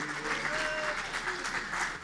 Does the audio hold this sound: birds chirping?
no